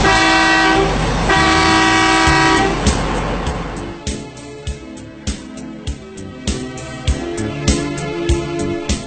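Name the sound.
CAT 797 haul truck horn honking twice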